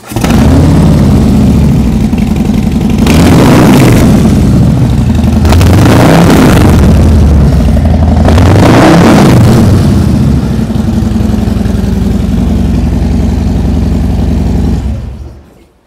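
A loud, close 2022 Harley-Davidson Low S motorcycle with a 117 cubic inch (1,923 cc) engine rumbling at idle, revved up three times in deep surges before settling back and cutting off.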